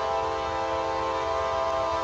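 A CSX mixed freight train heading eastbound in the evening sounds a loud, steady multi-tone horn that holds without a break from start to finish.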